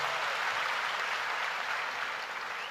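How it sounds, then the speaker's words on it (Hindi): A crowd at a company anniversary celebration applauds for senior colleagues, a dense and even wash of clapping that holds steady throughout without any talk. "एक बार जोरदार तालियां फिर से अतुल शर्मा के लिए"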